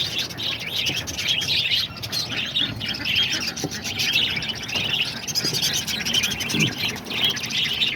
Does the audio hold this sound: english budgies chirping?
yes